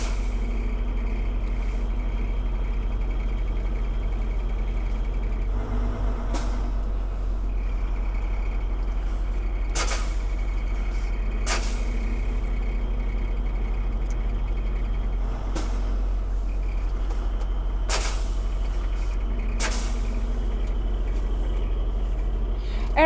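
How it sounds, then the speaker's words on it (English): A truck's air brakes during full service brake applications in a Class 1 practical air brake test in Manitoba: several sharp, loud bursts of hissing air, spaced a few seconds apart, over a steady low engine idle. "I'm making full service brake applications."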